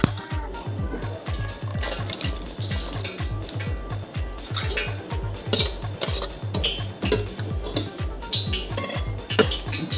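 Spoon stirring plantain into beef curry in a metal pot, rhythmic scraping and clinking strokes repeating quickly and evenly against the pot, fairly close.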